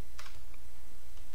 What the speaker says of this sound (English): So I'm going to hit Escape